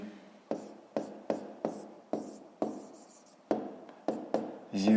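Pen strokes scratch across the page of a math exercise book in a steady run of about ten short bursts, close and distinct, each stroke starting sharply and trailing off.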